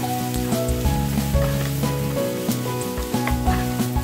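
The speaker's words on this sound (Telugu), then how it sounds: "ఉల్లిపాయలని ఆయిల్లో బాగా వేయించుకోవాలి." Chopped onions, two cups of them, sizzle steadily in hot oil in a pan for a spicy boiled egg fry, with a constant close frying hiss and occasional stirring scrapes, no voices.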